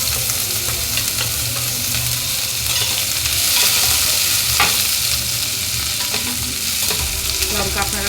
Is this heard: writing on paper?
no